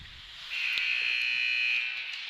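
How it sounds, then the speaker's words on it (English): Arena buzzer sounding during a hockey game, a steady electronic tone of a bit over one second that rises in over faint crowd noise and fades out. "There's the buzzer."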